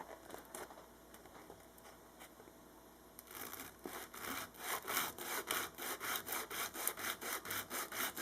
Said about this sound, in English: lay a piece of sandpaper here at the end of the neck,